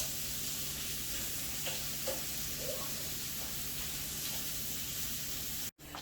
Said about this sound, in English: they're all ready for the air fryer